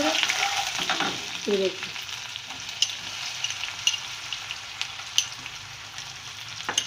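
Onions and tomatoes for chana chaat fry in a pan with a steady broadband sizzle, broken by a few sharp spatula taps and stirring scrapes; someone speaks briefly near the start.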